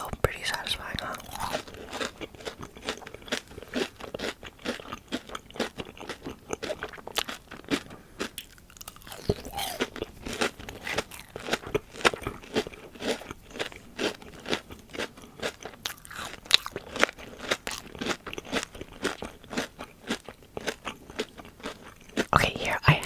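Sour crystal candy being bitten and crunched right at the microphone, a dense, irregular run of sharp crisp cracks and grinding chews that keeps going throughout, with soft quiet speech mixed in at times.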